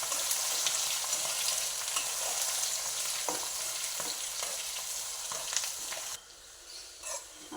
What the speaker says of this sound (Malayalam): പച്ചമുളക്, കറിവേപ്പിലയൊക്കെ നന്നായി എണ്ണയിലൊന്ന് വാടി വന്നിട്ടുണ്ട്.